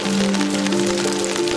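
Steady rain patters on a narrow street near the Grand Bazaar entrance while water gushes along the roadside drains, a continuous wash of hiss partly masked by a sustained droning tone.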